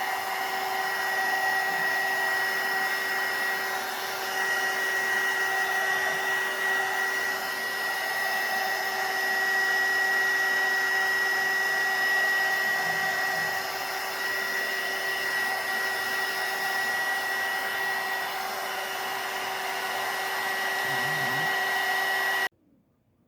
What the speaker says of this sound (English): You saw that I used the heat dryer, the air dryer.